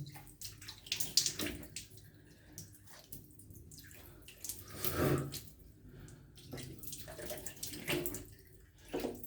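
Water splashing as a face is rinsed by hand, irregular scoops and splashes with running water and drips, close, soft and uneven, without talk.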